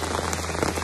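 Rain falls steadily on a backpacking trail in the Grayson Highlands, a dense even patter of drops on the surroundings, close and continuous, with no talking.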